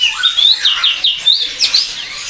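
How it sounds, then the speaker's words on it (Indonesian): Bright, high chirping song of a male cucak cungok bird in quick repeated phrases, fairly close and clear, with a faint background hiss and no talking, at a bird market. "burung cucak cungok jantan yang sudah gacorannya ya"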